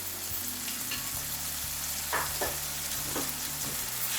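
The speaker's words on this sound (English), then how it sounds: "I'm gonna mix this all, and I'm gonna fry this masala" Masala of mixed herbs, garlic and ginger sizzling steadily in a pan with a few spoon scrapes as it is stirred, close and continuous throughout.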